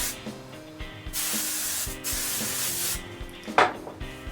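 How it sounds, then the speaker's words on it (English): Hairspray hisses from an aerosol can onto freshly curled hair in several short, close bursts, each separated by a brief pause, with a final sharper spray near the end. "you just want to spray it down"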